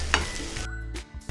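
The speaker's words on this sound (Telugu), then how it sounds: "ఈ ఉల్లిపాయలు బ్రౌన్ కలర్ వచ్చే వరకు వేయించుకోవాలి" Onions fry in ghee for a chicken vepudu, giving a steady close sizzle with light stirring that briefly dips near the end before flaring up again.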